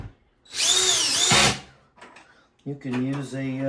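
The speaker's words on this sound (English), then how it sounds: "That drill makes it a lot faster." A power drill whirs in a loud high-pitched burst for about a second, winding down, followed by a person speaking nearby.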